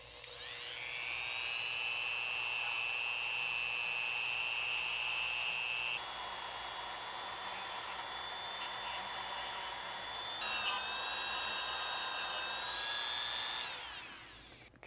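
Rotary tool spinning with Flitz polish on the top surface of a Taurus G3/G2 pistol safety, a loud, steady high whine held for most of the clip, dipping briefly in pitch mid-way and winding down at the end.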